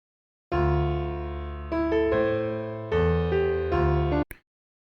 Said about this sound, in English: we have some more minor sounding phrases like this one